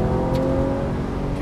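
A 2012 Porsche 991 Carrera S accelerates out of a corner with a steady, rising engine drone heard from inside the car, loud and continuous.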